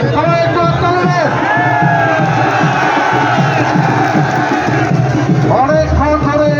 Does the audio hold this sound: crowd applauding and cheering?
yes